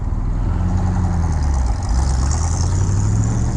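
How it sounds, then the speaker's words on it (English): A deep, steady Chevy engine rumble idles close by, with a low throaty dual exhaust note that swells slightly midway, and no one speaking. "Look at that specimen of a Chevy dual exhaust."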